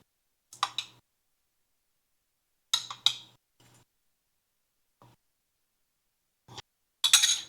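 A metal spoon clinks against a full lined sheet tray while sauce is spooned over fish, giving a few sharp, bright taps in separate bursts with quiet pauses between them.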